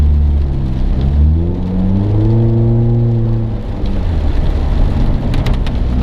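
A car drives fast toward a home driveway, its engine droning steadily with rising and shifting pitch as it accelerates, loud and close from inside the vehicle.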